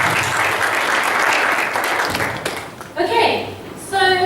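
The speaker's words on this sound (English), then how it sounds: "give them a round of applause" An audience at a digital wellness talk gives a sustained round of applause that swells and then fades, with a speaker's voice returning over the last of it.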